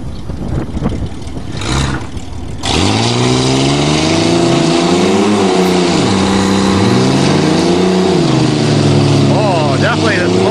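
Ford Ranger and Dodge Dakota pickup trucks strain against each other in a tug of war, engines droning and revving at length after a burst of talk.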